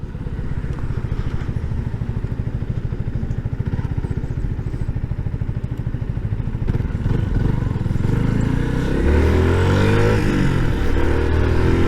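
A Yamaha MT 125 motorcycle rides along smooth asphalt, its engine droning steadily and close, then its pitch shifting as the revs rise and fall near the end.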